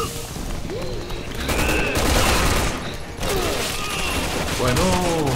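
Rifle fire in Resident Evil 6 repeats steadily through the scene, loud and close, as game sounds and mechanical clicks play alongside.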